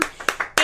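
Four or five sharp hand claps in quick, uneven succession, close and crisp, with a brief voice heard around them.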